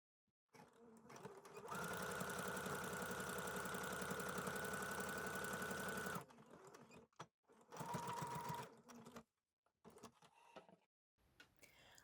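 A sewing machine stitches across a neoprene fanny pack connector, running loud and steady for about four seconds, then a shorter burst after a pause, with some faint handling noise between.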